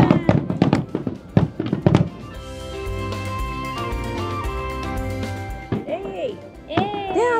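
Fireworks over the Sumida River at Asakusa burst in a rapid string of sharp booms and crackles, then give way to a sustained tone and voices talking nearby.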